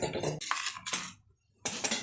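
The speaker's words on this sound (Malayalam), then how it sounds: "നന്നായിട്ട് മിക്സ് ചെയ്യാം" An egg is beaten with salt water in a bowl, a utensil clinking and scraping in quick rhythmic bursts, pausing briefly before starting again.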